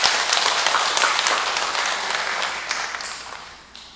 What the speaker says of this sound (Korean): 수고의 박수로 부탁드리겠습니다